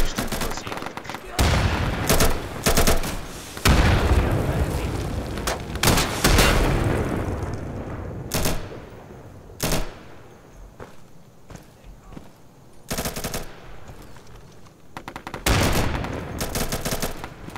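AKM rifle fire in the tactical shooter Insurgency, sharp gunshot bursts cracking out in irregular clusters amid footsteps and game noise, loud and close with quieter gaps between volleys.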